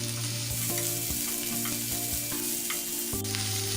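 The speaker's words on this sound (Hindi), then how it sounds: "इन सब्जियों को हम थोड़ा सा भून लेंगे।" Chopped onion, spring onion and capsicum sautéing in a pan for idli Manchurian, a steady close sizzle with intermittent scrapes and clanks from stirring, no voices.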